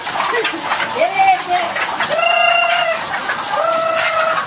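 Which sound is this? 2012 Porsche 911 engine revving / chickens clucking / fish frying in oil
chickens clucking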